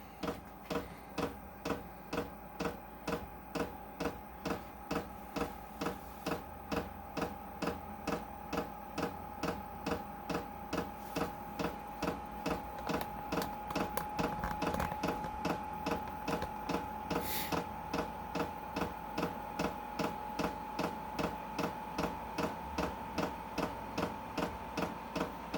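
A Vevor 12V diesel heater starts up toward ignition: a steady, fairly quiet blower hum carries a regular ticking pulse about twice a second throughout, with a faint whir building mid-way.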